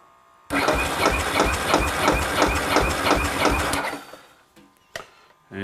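A Ducati 900SS engine cranks with throttle wide open during a compression test, a loud rhythmic chugging of about a dozen even beats for over three seconds, then it stops, leaving faint clicks and a sharp knock.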